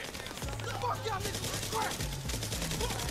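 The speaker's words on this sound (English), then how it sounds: "Oh, this shooting ain't hitting shit." Rapid bursts of gunfire from the video game GTA 5, clustered crackling shots repeating over a low music bed, with no clear talking over them.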